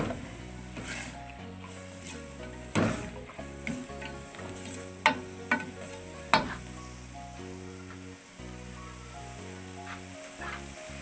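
Potatoes and cauliflower for aloo gobhi fry in about four tablespoons of oil and are stirred, with a low sizzle and several sharp spoon scrapes and knocks over quiet background music.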